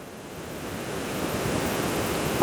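The Ganges rushes at Vishnu Prayag in the Himalayas, a broad, steady roar of fast river water that swells slightly louder as it goes on, with no voices.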